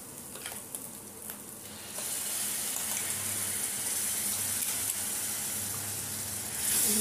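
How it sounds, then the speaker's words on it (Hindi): Tomato puree poured into hot spices frying in oil for a paneer and onion curry, a soft wash of sound that swells into a steady loud sizzle and hiss. "अब हम डालेंगे टमाटर प्यूरी"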